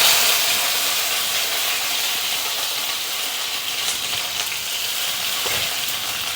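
Curry leaves and onion frying in hot oil, a loud, dense, steady sizzle and hiss that holds evenly throughout, with faint stirring taps near the end.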